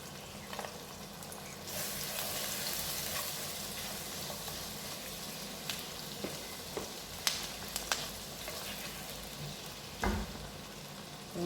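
Garlic sizzling in a tablespoon of butter in a pan, a steady frying hiss throughout with a few light clicks and taps of utensils.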